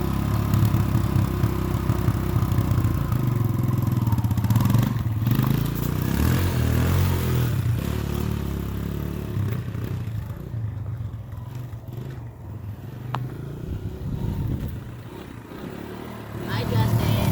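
A child's new motorcycle runs with a steady mid-pitched engine hum and clatter that idles and shifts slightly while riding, moderately loud throughout, with people talking over it.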